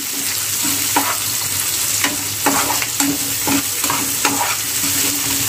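Chopped onions fry in oil until browning for a dill greens bhaji, a loud close sizzle broken by repeated rhythmic scraping strokes of a spatula stirring the pan.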